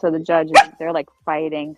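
A pet dog barks several times in short, close bursts, overlapping a person talking indoors.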